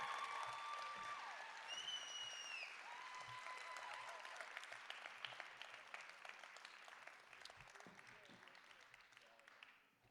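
A crowd at a Músíktilraunir 2026 band contest heat applauds a band with dense, sustained clapping and a few whistles early on, gradually thinning and fading over about ten seconds.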